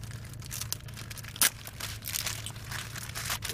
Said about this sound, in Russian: Блин, еще упаковка и опять скотч.